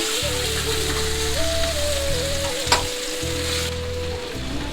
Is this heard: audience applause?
no